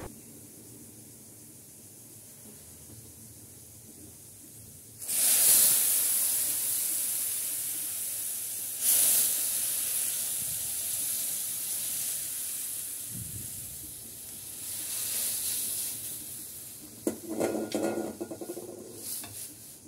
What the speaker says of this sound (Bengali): এখন আমি ডালটা বাগার দিয়ে দেবো